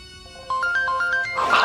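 A mobile phone ringtone plays a short, bright rising melody of evenly spaced electronic notes, close and clear, ending in a brief burst of noise.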